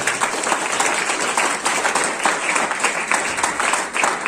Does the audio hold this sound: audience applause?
yes